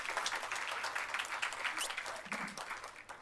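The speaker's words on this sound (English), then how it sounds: "we can give her a round of applause" An audience applauds at a women-in-agriculture event in Jamaica after a secretariat member is introduced, a steady wash of clapping that holds for a few seconds and thins slightly toward the end.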